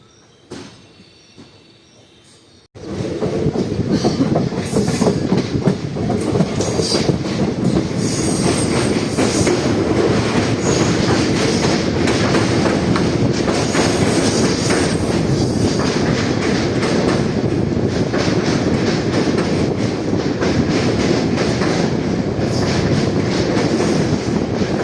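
The Palaruvi Express arrives at Aluva railway station: after a few quiet seconds, a loud, close rumble of passing carriages sets in, with rhythmic wheel clatter and occasional squeals sustained for over twenty seconds.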